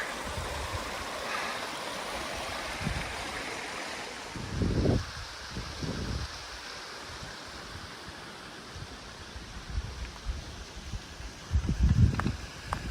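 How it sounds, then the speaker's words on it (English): Along a hiking trail in the mountains between Dunsmuir, California and Sisters, Oregon, meltwater streams run across the path with a steady rushing gurgle, joined by a few louder crunching footsteps. "Streams coming in everywhere."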